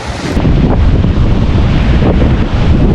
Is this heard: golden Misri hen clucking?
no